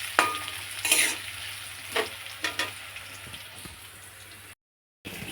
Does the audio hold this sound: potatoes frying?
yes